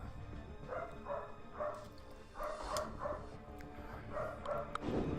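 A dog barks in short bursts of yips and bow-wows, about a dozen sharp barks in loose clusters, moderately close over a soft room hum.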